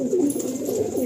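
A pair of Andhra high-flying pigeons coo steadily, a close, continuous low throaty rolling call filling the whole moment with no talk.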